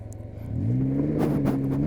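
A 2024 Can-Am Ryker Rally three-wheeler with a CVT transmission accelerating hard on a gravel road, its engine note climbing steeply from a low idle rumble into a loud, rising whine, with grit crunching underneath.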